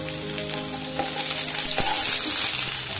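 Chopped onion and capsicum fry over a high flame in a pan, a loud, steady sizzle throughout with a few stirring scrapes.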